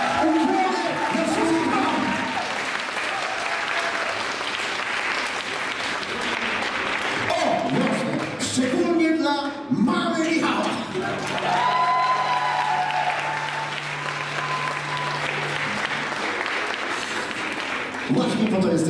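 Crowd applause and some cheering at a Mother's Day event in an old monastery, loud and sustained, with voices speaking and shouting over the clapping.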